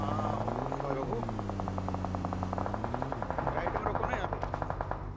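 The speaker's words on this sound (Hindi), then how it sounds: "तभी उधर की तरफ से कुछ गन फाइट के साउंड आए" Rapid automatic gunfire from a distant firefight in the BGMI battle royale game on the Erangel map, long rattling bursts of evenly spaced shots running steadily over a droning vehicle or engine hum.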